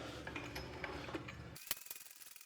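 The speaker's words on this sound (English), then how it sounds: "now you're gonna jack your mower up" Ratcheting clicks from a jack lifting a John Deere E120 riding lawn mower, first under a busy mechanical background, then as sharper, separate pawl clicks in a quieter stretch near the end.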